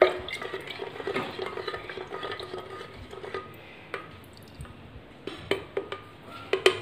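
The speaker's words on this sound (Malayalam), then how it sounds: "ഇതുപോലത്തെ ഒരു ഇതിട്ടിട്ട് നമുക്കിങ്ങനെ വെറുതെ ഇളക്കി കൊടുക്കാം." Banana wine mixture being stirred in a vessel makes soft sloshing and scraping with scattered clinks against the container, close and intermittent, with no talking.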